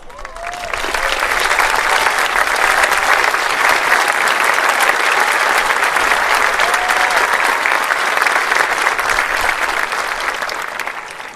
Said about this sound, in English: deserve to stand up as we give them a round of applause.